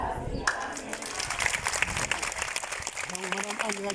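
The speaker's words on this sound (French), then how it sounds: "je vois tous les enfants de mon pays qui applaudissent une seule personne" Children in Senegal applaud together, a dense, steady patter of many hands clapping nearby, with voices talking over the crowd.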